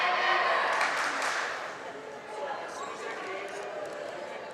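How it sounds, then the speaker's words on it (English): Crowd noise at a girls high school volleyball match in a gym, a loud wash of cheering and applause that swells at first, dips, then holds steady with voices mixed in. "we're hearing lots of cheering from Craig."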